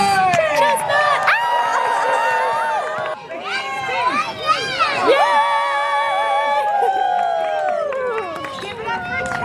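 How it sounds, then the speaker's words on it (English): A crowd at a renaissance fair cheers for Chestnut, with high whoops, children's shouts and excited voices overlapping in loud, close bursts that rise and dip through the clip, with talk mixed in. "Big round of applause for Chestnut."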